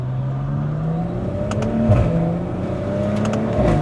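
Stage 2+ tuned G20 BMW M340i accelerating on a test drive in Malaysia, in Sport mode, heard from inside the cabin as a loud, steady engine roar that swells and rises in pitch, with road noise beneath.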